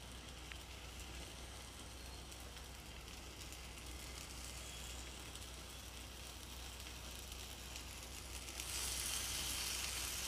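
Paneer tikka fries in a pan with a soft, steady sizzle and crackle that grows a little louder near the end, with no talking.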